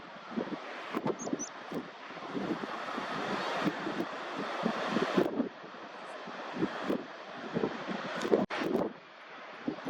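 Steady wind blows on a cliff edge above the sea at Filey Brig, buffeting the microphone with rumbling gusts and occasional sharp bumps throughout, with no speech.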